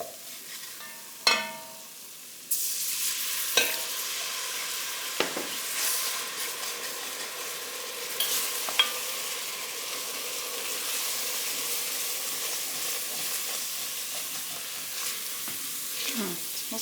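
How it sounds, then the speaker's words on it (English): A pan being deglazed while cooking chicken pot pie, a sharp hiss as liquid hits the hot surface, then steady close sizzling with scattered clinks and scrapes of stirring; a voice briefly talks. "We're gonna deglaze this pan."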